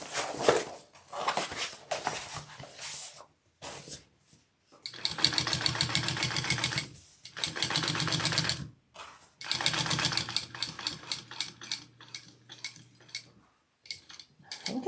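A sewing machine stitches an overlay onto a tote made from old fishing waders, running in several rapid bursts of a few seconds each with short pauses between them, close by and with no talk.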